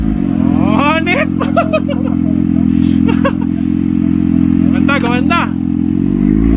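A Kawasaki Ninja ZX6R fitted with an SC Project exhaust idles with a deep, steady rumble throughout, while several people talk and call out over it nearby.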